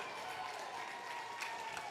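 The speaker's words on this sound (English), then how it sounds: "the few parents that are here clap for that" Scattered clapping from a few parents in the stands at a high school football game, Monroe Bearcats at Glacier Peak Grizzlies, a thin, steady patter over crowd murmur.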